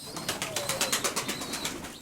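Pigeons cooing in a loft, a run of soft repeated coos in a steady pulsing rhythm, fairly close but quiet, with faint chirps over the top.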